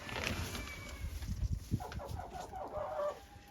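Young hens in a farm enclosure, a few soft clucks and murmuring calls close by at low volume, with light rustling around them.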